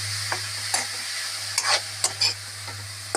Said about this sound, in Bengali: তো এখন আমরা বাঁধাকপিটাকে একটু লাল করার জন্য আমরা একটু ভাজছি ওদের